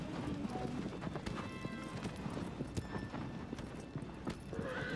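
Horse hooves galloping in the Shadow of the Colossus video game, a rapid, even clip-clop rhythm running throughout with an occasional whinny, while someone talks over the game sound.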